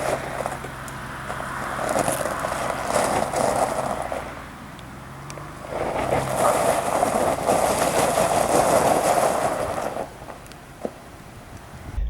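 A 2022 Ford Bronco engine pulling under throttle during a turn-assist maneuver, a rumbling drone that swells twice and eases off, heard from inside the vehicle with no talking.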